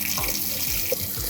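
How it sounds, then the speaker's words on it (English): Hot water runs steadily from a fully opened tap on a Bosch 16P pilot-ignition hot water system, a loud, continuous hiss and gush that holds even for over a second, with no voices. "open the hot tap fully again"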